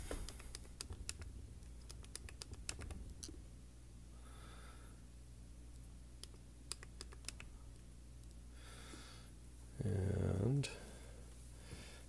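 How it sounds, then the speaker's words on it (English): Fingers pressing the four bottom buttons of a Crestron TPMC-8X wifi touch panel in quick sequence, giving light, faint clicks and taps over a quiet room hum. "we're going to press these four buttons at the bottom in sequence"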